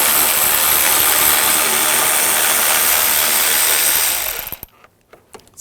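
A ratchet with a 10mm socket takes bolts off an Audi S4 during work on the auxiliary water pump, giving a loud, steady, close mechanical whirring that runs for about four seconds, then stops, leaving a few faint clicks.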